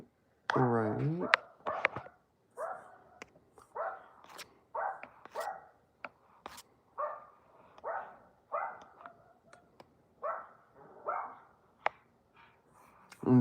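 Dog barking repeatedly in short, irregular bursts, fairly close, with a higher yelp at the start and quieter gaps between barks.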